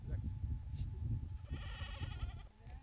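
Goats in a herd near Şarköy, Tekirdağ bleat twice, loud and close, over steady low rumble and background noise, with someone talking nearby.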